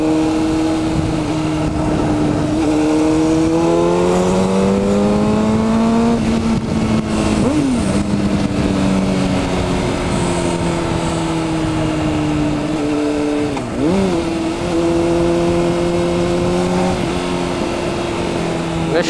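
Red Honda CBR 600RR motorcycle engine revving hard nearby, its pitch sweeping up and dropping in repeated climbs, with sharp dips between throttle pulls and a loud, sustained drone.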